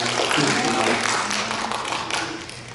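A church congregation applauding during a sermon, a dense wash of many hands clapping together, close and sustained, with a voice speaking over it.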